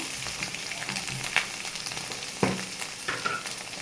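Egg fried rice frying in a pan with chili powder added, a steady close sizzle broken by a few sharp scraping clinks of a spoon against the pan.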